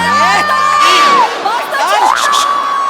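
A comedy show audience erupts in loud cheering, with rising whoops and shouted voices layered over a dense crowd roar. Clapping is not clearly distinct.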